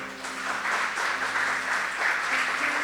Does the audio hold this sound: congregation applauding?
yes